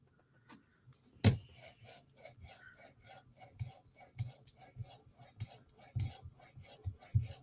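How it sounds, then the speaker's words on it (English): A Tanto M4 knife blade in PM2 steel being polished on a sharpening system, repeated light rasping strokes at a steady rhythm, close and fairly quiet, with one sharp knock early on. "Light touch is what you want when you're polishing, so the bevel stays flat and doesn't flex in the jaw."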